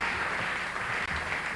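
A Late Night with David Letterman studio audience applauds, a dense, steady wash of clapping and crowd noise with a brief dip near the end.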